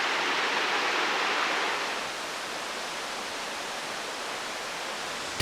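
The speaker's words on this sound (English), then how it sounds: "On one side, a raucous waterfall gushed down the rock face." A raucous waterfall in Oman gushes down a rock face, a broad, steady roar that is loudest at first and then settles to a slightly softer, constant rush with no talk.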